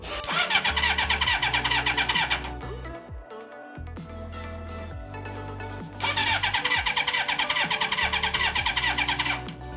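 A Suzuki GS1000 motorcycle engine cranked over by the starter during a compression test: a steady rapid whirring chug for a few seconds, a short pause with clicks, then another long even cranking run, loud and close.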